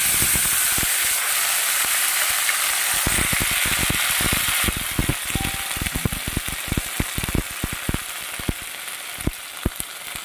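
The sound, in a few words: tomato, green chilli, ginger-cumin paste sizzling in frying cumin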